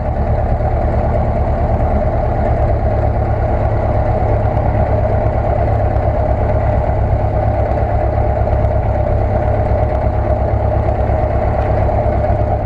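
A Luscombe 8A light airplane's engine drones steadily while taxiing, a loud, close, continuous low rumble with an even pulsing throb and no talk.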